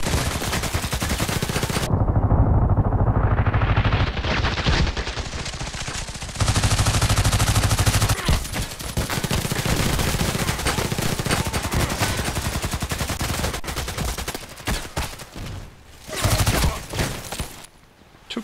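Rapid bursts of automatic gunfire from a PDR-C submachine gun in the shooter game Contract Wars, loud and close, with sustained strings of shots that pause briefly and resume, plus echoing reports.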